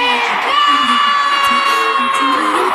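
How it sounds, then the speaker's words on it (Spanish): A pageant audience of beauty contest fans shouting and cheering a country's name, a loud sustained roar of many voices with whoops throughout. "Y todos gritaron con ella"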